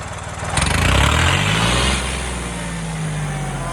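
A John Deere 5310 tractor engine with a broken turbo loudly revs up, holds a roaring high pitch for about a second, then drops back to a steady rumbling idle.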